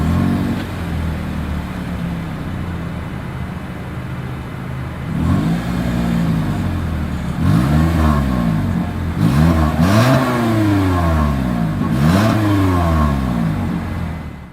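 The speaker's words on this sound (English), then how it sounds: "here is that exhaust clip." A 2023 Toyota Corolla sedan idles, then revs through its exhaust in several sharp throttle blips that rise and fall, recorded close outdoors in the rain.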